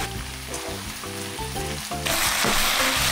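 Steady, loud sizzling of chicken breast and napa cabbage stir-frying in a pan, with stirring and clanking underneath; the sizzle swells louder partway through.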